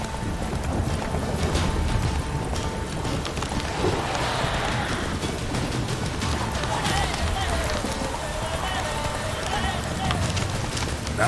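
Roach the horse gallops in The Witcher 3, with a steady run of hoofbeats continuing throughout amid a dense game soundscape and voices.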